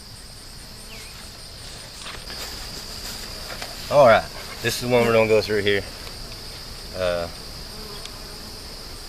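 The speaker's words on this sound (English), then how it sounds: "Pretty gentle bees, as you can see." Honey bees hum around an opened hive in a steady, faint background drone, while someone speaks briefly up close over it.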